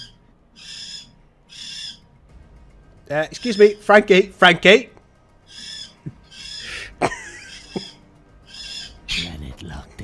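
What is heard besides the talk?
pet bird calling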